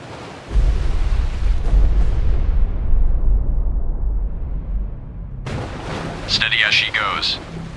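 Depth charges and gunfire from Destroyer: The U-Boat Hunter boom in a long, rumbling detonation that sustains heavy low energy for several seconds, followed by a burst of hissing debris and warbling game effects near the end.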